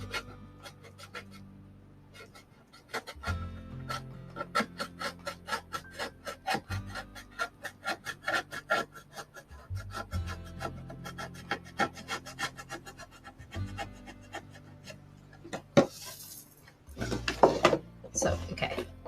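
Scissors or a craft knife cut through the cardboard cover of a Dollar Tree Valentine's gift bag box, giving close scraping and snipping strokes in an uneven rhythm, with a voice speaking briefly between cuts.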